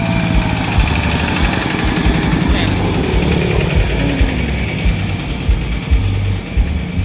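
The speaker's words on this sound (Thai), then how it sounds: "รถไถนา" A farm tractor engine runs close by with a continuous, rough mechanical drone that keeps a steady level throughout.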